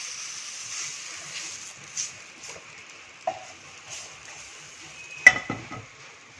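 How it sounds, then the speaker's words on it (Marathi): Spiced okra is scraped from a pan into a dish, with soft scraping and stirring, light sizzle, and a few sharp metallic clinks of utensil against cookware, quiet and close. "आपण आता भेंडी एका डिश मध्ये काढूया."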